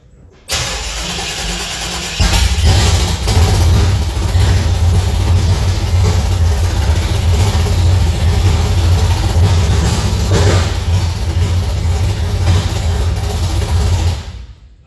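An engine cranks and catches on a first start after a build, then roars into a loud, steady rough idle that sounds badly wrong, running continuously until the sound cuts off at the end.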